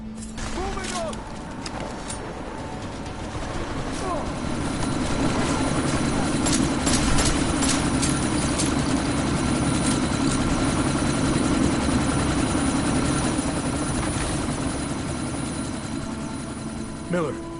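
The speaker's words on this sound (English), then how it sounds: "That chopper's about to take off!" In the game Deus Ex Mankind Divided, a helicopter rotor thrums and builds in a steady whir as the chopper readies to lift off, with gunfire clatter and shouted voices over it.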